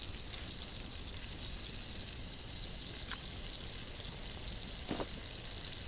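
A soft, steady bubbling hiss of water heating on a stove in the survival game The Last Plague, faint and continuous, with a few brief light clicks over it.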